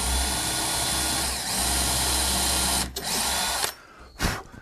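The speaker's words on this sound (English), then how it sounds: "drill a 1/4 inch hole about halfway through that" A power drill bores a 1/4 inch hole about halfway through the back of a wooden cabinet part, a loud, steady motor whine with a brief dip near the end before it winds down, close up and without talking.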